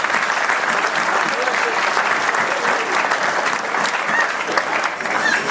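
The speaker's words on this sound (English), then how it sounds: "join me in a nice round of applause for our beautiful ladies this evening" Guests at a cruise ship captain's New Year cocktail reception give a sustained round of applause. The clapping is full and steady, with a crowd murmur and some voices mixed in.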